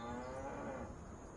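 Cows moo in the video game Farming Simulator 25, a low drawn-out bovine call over a steady background, fairly faint with no talking.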